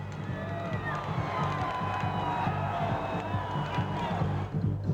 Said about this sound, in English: you can see the crowd again. They're celebrating.